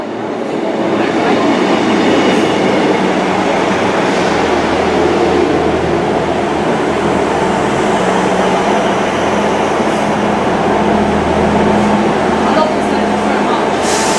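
A South West Trains class 159 diesel unit, 159108, runs past close by in a steady, loud rumble of wheels and engine that stays level throughout, with no talk heard.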